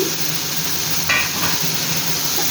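Chopped papaya drops into a hot pan with chopped tomatoes for a papaya and pea lentil dish. A steady loud sizzle and frying hiss run throughout, with a brief clatter as the pieces go in.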